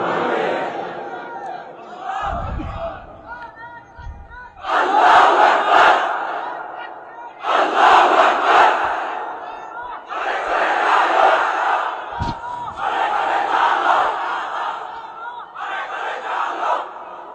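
A large crowd at a Bengali religious gathering chanting the takbir in loud unison, with a leader's call answered by several roaring bursts of massed voices at a steady, repeated rhythm.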